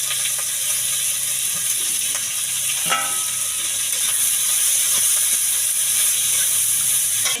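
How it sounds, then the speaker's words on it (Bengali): A steady, loud sizzle of capsicum frying in a pan, with occasional faint scrapes and ticks from stirring; no talking. "এবার ভাজার জন্য ক্যাপসিকামগুলো দিয়ে দেবো"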